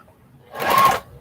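A Juki sewing machine sewing quilt block pieces with a quarter-inch seam whirs in a short, close burst, rising and dropping off within about half a second, surrounded by quiet.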